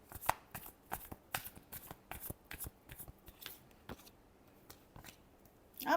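A deck of tarot cards being shuffled by hand in a quiet room, a run of quick crisp riffling bursts at an uneven rhythm, close and fairly soft with no talk.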